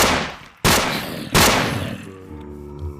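Two sharp, loud gunshots from a gun in the Minecraft Crafting Dead mod, each followed by a decaying echo, then a lower, quieter tail.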